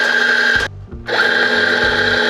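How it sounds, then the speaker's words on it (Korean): An electric coffee grinder grinds espresso beans set one notch finer, a loud steady motor whir that cuts out briefly near the middle and then resumes at full strength. "또 갈아내 주시고요"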